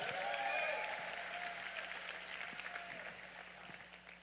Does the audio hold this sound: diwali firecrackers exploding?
no